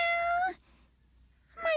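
A cat meows twice, a clear drawn-out call at the start and a shorter one near the end, separated by a quiet pause.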